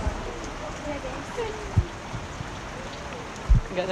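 Steady rain falls outdoors as an even hiss with a few soft thumps, while people talk over it.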